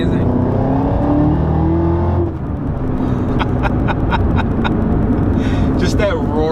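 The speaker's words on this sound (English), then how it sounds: "Just that roaring exhaust, man." A 2019 Chevrolet Camaro ZL1 1LE engine and exhaust roar loudly and steadily, with revving swells, while someone talks over it.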